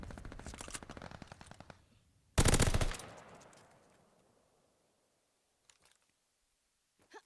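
Gunfire in Call of Duty Vanguard during a ranked Search and Destroy match: a rapid automatic burst rattles for about two seconds, then one loud, heavy shot rings out and decays, followed by faint scattered distant shots.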